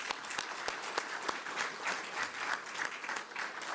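Sustained applause from an audience at the official closing ceremony of an international forum on intercultural dialogue, a dense, steady patter of many hands at moderate distance, continuing evenly without voices.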